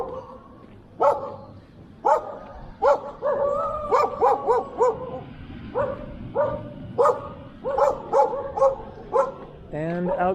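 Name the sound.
dogs barking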